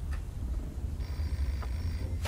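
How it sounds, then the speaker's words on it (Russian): A telephone rings inside a horror video game, a thin electronic ring rising midway over a low ambient rumble and a few faint knocks, heard somewhat distant with no talking. "Еще раз услышал телефон. Где-то здесь есть телефон."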